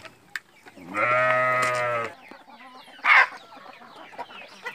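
Chickens and chicks on a small farm cluck and call near the microphone, with one long loud sustained call followed by shorter scattered clucks and peeps, no talk.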